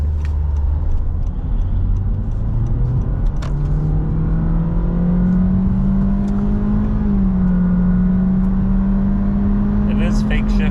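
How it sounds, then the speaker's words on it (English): A 2025 Honda Civic Sport hatchback with a naturally aspirated engine launches hard from a standstill, its engine note climbing steadily in pitch with simulated shift dips, loud and continuous, a voice briefly heard over it. "0 to 60 in the Honda Civic"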